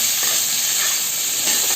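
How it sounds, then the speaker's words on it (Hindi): Cut okra (bhindi) frying on a high flame in a pan, giving a loud, continuous bright sizzle with faint stirring scrapes, no talking. "इसको हम अच्छे से फ्राई कर लेंगे भिंडी को।"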